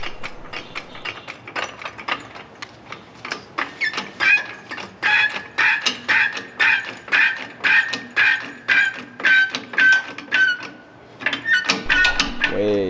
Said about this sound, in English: Sorry for my squeaky jack, apologize.